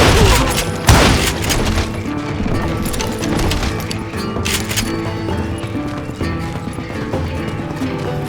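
Gunfire in Call of Juarez: Gunslinger, a burst of sharp shots and booms near the start followed by scattered cracks under a busy mix of hoofbeats and background noise.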